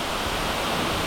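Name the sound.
Maruia Falls roadside waterfall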